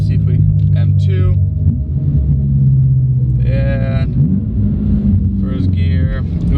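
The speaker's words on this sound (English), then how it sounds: "It's a big body twin turbo V8, and it's warmed up now. Let's go ahead and give it a good rip." BMW M6 with a warmed-up twin-turbo V8 rumbling deep and loud, rising through revs with throaty pulls, a voice speaking over it.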